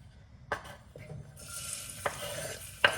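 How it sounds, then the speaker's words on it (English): Onions sizzle softly in hot beef fat, a steady hiss broken by a few sharp clinks of a utensil stirring against the pan. "You want to hear that sizzle, but you don't want it to like burn"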